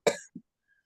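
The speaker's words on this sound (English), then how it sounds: "I think you have a bad cough." A single sharp cough, close and fairly loud, followed by a short softer throat sound, then silence.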